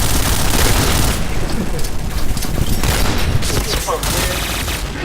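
Dense, continuous combat noise from the online shooter Point Blank, with booming bomb explosions and bursts of gunfire, loud throughout, with voices faintly mixed in.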